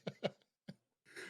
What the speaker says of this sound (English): Sorry, I had a coughing fit.